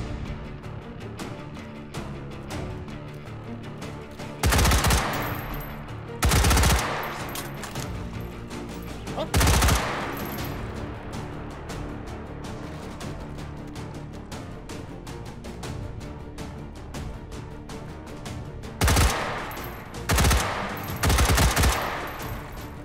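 Rapid bursts of automatic gunfire ring out in the shooting game H3VR, several loud close volleys spaced apart, with quieter game noise between them and no talking.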